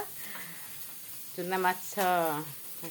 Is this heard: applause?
no